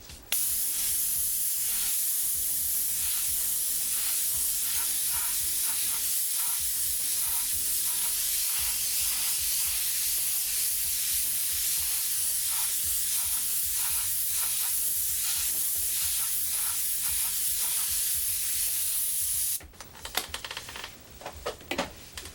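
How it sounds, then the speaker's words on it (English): An airbrush sprays white paint in a steady hiss for nearly twenty seconds, close by and continuous, before stopping abruptly with a few light clicks and knocks. "Nice wide spray."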